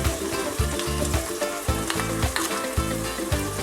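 Egg with raw rice poured into a hot pan for a keema egg pulav, giving a steady, loud, close sizzle and frying hiss with rhythmic stirring scrapes throughout.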